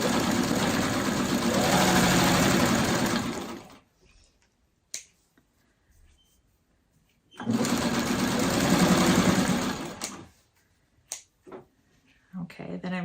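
A sewing machine stitches a quilt triangle in two steady bursts of a few seconds each, close and loud, with quiet handling and faint clicks between them.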